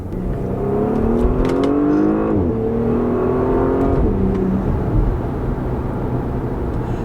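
Porsche Panamera 4S V6 heard from inside the car while driving in manual mode through the PDK gearbox: a steady, muted engine drone climbing in pitch, dropping at each shift, then climbing again under road rumble.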